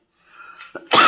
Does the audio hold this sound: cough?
yes